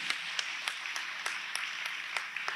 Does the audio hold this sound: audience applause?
yes